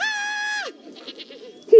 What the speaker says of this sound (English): to an animal sanctuary to pet goats